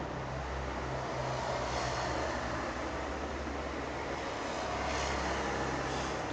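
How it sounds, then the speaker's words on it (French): Steady broadband traffic rumble with low engine drone, swelling slightly as vehicles pass nearby; no voices, continuous throughout. "Je suis désolé pour le bruit des voitures."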